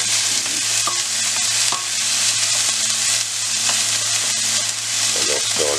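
Onions and garlic cooking in a pan with a constant bright sizzle and a low hum beneath, occasional soft stirring taps, close and loud with no voices.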